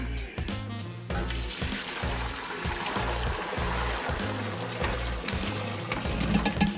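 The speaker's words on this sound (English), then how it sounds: "dump this water out." Hot water poured out of a pot of boiled potatoes, a steady close gush and trickle of liquid with clattering and knocking of the pot underneath, continuing for several seconds.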